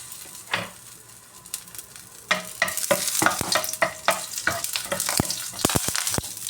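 Garlic hitting hot oil in a home kitchen pan, crackling and sizzling with a dense run of sharp pops and stirring scrapes that grow busier and louder partway through, close and alone.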